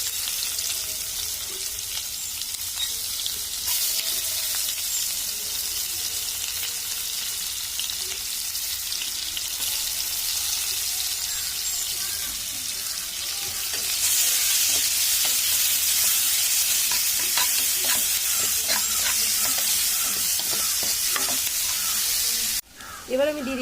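Onions and cumin seeds fry in hot oil in a pan just used for frying potatoes, making a loud, continuous sizzle and hiss with scraping stirs throughout, and the hiss briefly swells partway through.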